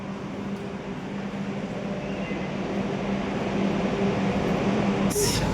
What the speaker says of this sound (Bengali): দেখো ট্রেনও চলে এসছে